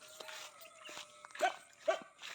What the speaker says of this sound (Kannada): ನಾಯಿಗಳ ಕಾಟ.